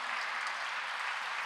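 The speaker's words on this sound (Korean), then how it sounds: "우리 잠깐 일어나면 박수로 환영하고 축하하도록 하겠습니다." Church congregation in Paris applauding to welcome a newlywed couple, soft, steady and distant, a brief wash of many hands clapping.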